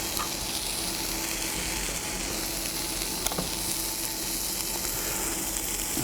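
Lamb patties shaped like sausage patties fry in a pan with a steady, loud, continuous sizzle and crackle, unbroken and without talk.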